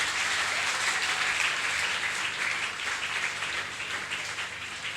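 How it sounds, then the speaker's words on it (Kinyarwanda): A church congregation applauds together in sustained, dense clapping that fills the room, steady and loud throughout before easing slightly toward the end, with no voices over it. "Tukomere Yesu amashyi menshi cyane."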